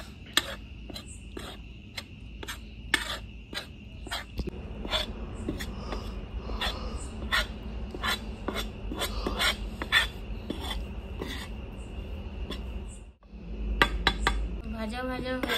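Flour and gram flour are stirred and roasted in a pan, with a steady run of metal scraping and clinking strokes against the pan, close and fairly quiet.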